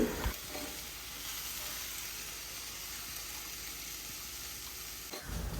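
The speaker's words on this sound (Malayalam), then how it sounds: "ഇതിനി നമുക്ക് വാട്ടി വെച്ച ഉള്ളിൻ്റെ അടുത്തേക്ക് ചേർത്ത് കൊടുക്കുക" Samosa filling stir-fries in a pan with softened onions, giving a quiet, steady sizzle with faint stirring that stays even from start to finish.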